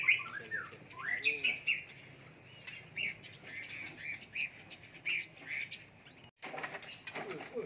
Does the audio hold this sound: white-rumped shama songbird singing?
yes